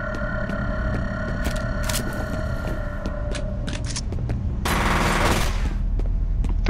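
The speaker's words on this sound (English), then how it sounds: "I will just unload bullets." Sustained machine-gun fire in the video game F.E.A.R., loud and continuous rapid shots with metallic clinks, swelling into a heavier, denser burst near the end.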